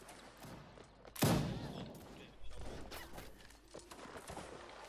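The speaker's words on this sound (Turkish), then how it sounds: "Siper alıp alıp sıkıyorum heriflere" A loud musket volley cracks and rolls out during a fortress battle in Mount & Blade Warband Napoleonic Wars, followed by scattered quieter shots further off, with a murmur of background noise.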